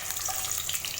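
Cinnamon, cloves, cardamom and green chillies fry in hot oil in a pressure cooker for chicken biryani, a close, continuous crackling sizzle with bright spattering pops.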